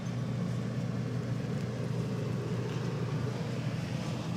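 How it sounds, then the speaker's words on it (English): Generator running beside an RV, giving a steady, even engine drone at moderate level with no breaks. "generator just kicked up"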